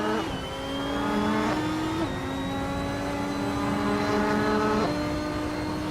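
Racing cars roar past during a race with overtaking, engines rising and falling in pitch as they accelerate and shift, several gear changes audible, loud and continuous without talk.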